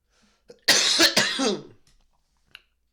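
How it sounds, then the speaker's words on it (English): A single harsh cough, close and loud, with a faint click or small sound before and after it. "I ain't even want to cough on y'all."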